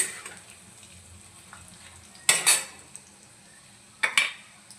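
Slices of bitter gourd fry crisply in a pan under a faint steady sizzle, with two louder bursts of scraping and clinking as they are turned, close up, with no talk.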